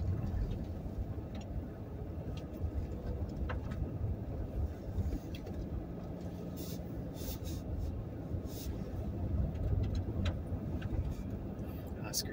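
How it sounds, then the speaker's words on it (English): Car driving off a wooded road into a ditch where fallen trees block the way, a steady rumbling roll with scattered knocks and scrapes, moderately close. "so I'll have to drive into the ditch here."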